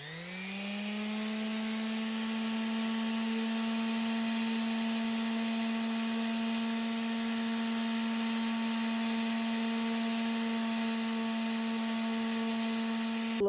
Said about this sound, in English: I definitely had to go back in with plenty of layers of that wood filler and sand off all the excess